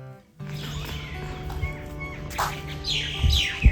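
A pair of mynas chirping and calling nearby in the morning, a few bright rising calls over a low background hum.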